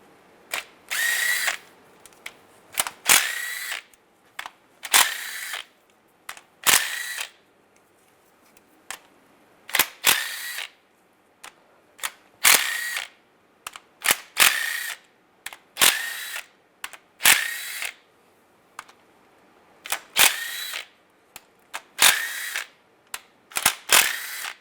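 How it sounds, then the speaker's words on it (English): A power tool with a 13mm socket backs bolts out of a 2007–2013 Chevy Silverado rear main seal cover in repeated short bursts of whirring, each followed by a pause and a sharp click, close and fairly loud. "Now we're going to take all these bolts out."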